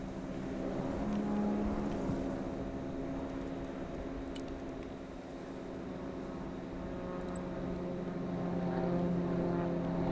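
A Kiowa helicopter idles in the Broken Arrow war game, a steady droning rotor and engine hum with a mild swell, moderately quiet and alone without talk.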